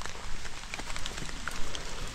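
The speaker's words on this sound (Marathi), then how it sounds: "पाऊस सुरू झालाय भरपूर" Heavy monsoon rain falls steadily in a Konkan village, a dense, even hiss with scattered drop patters throughout and no voices.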